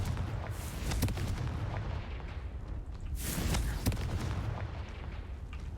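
Repeated Confringo fire-explosion spells cast in Hogwarts Legacy, played on PC on hard mode, with deep booming blasts recurring over a rumbling game soundscape and no speech.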